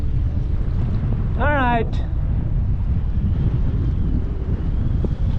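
Steady wind rumbles and buffets against the microphone on open water beside a small skiff, loud and continuous, with a brief spoken phrase partway through.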